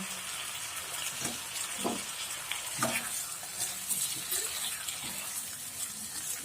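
Chopped chicken gizzards stir-fried in a pan over high heat give a steady close sizzle, broken by scraping spatula strokes and occasional clinks as the pieces are turned; no talking.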